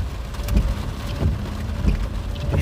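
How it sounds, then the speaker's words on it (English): Heavy rain pours on a car driving in Columbus, giving a dense steady hiss broken by regular soft thuds every half second or so, with no talking. "Now it looks like we're getting a little bit heavier rain bands here."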